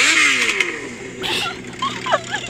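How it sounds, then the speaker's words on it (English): The engine of a BMW E36 M3 revs from close beside the muffler, a loud raspy roar that climbs and falls in pitch over a couple of seconds. "And Yossi just decided to rev it right when I was walking next to the muffler."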